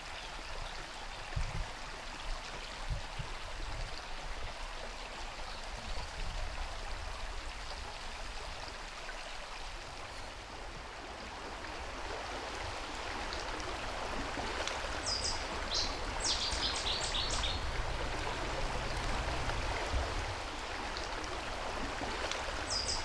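River water flows in a continuous soft wash, fairly quiet and outdoors, with occasional faint knocks and a few high chirps in the background.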